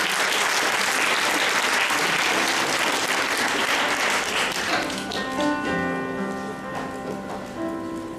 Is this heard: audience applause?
yes